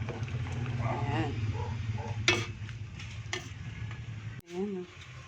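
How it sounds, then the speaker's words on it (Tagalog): Dinuguan, a thick pork blood stew, stirred continuously in a pot, with a low bubbling sizzle and repeated scraping strokes, close by, a sharp knock near the end and brief voices in the background. "Kailangan hindi mo siya titigilan haluin."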